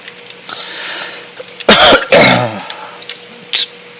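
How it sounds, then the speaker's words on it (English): One person gives a harsh throat-clearing cough in two quick bursts, close to the listener. A softer short sound follows a moment later. "Excuse me for that cough."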